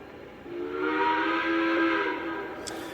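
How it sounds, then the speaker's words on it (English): The steam whistle of a Lionel Legacy Pennsylvania Railroad B6 0-6-0 switcher model locomotive, set to its lowest pitch, blows a low, sustained chord-like tone for about two seconds, then fades out. "you can control and change the pitches of this locomotive's whistle"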